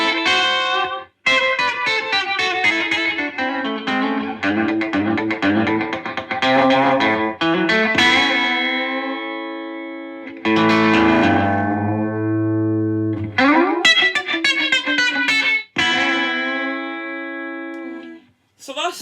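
An electric guitar played through a Memphis Sun Echo delay pedal for rockabilly, clean picked notes and chords with echoing repeats trailing behind each phrase, loud and close with brief pauses between passages.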